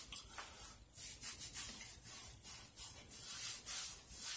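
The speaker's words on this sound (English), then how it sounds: "Put a dime size amount in my palm, rub it around." Beard oil is rubbed between the palms, giving a close, soft, continuous swishing friction in uneven strokes, heard alone without speech.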